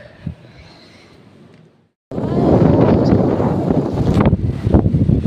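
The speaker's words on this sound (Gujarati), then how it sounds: "બહુ પવન છે હો ભાઈ" Strong sea wind blows at a seaside Mahadev temple, starting as a faint rustle, then dropping out briefly before loud, continuous gusts buffet the microphone with a deep roar.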